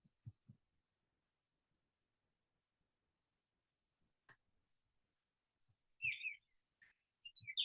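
Songbirds in a garden, including a nuthatch and titmice, give faint, sparse chirps and high tweets amid near silence, with a few soft low taps and a brief cluster of calls toward the end.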